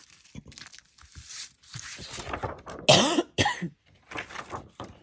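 Several harsh coughs and throat-clearing bursts, close and loud, scattered across a few seconds with short pauses between them.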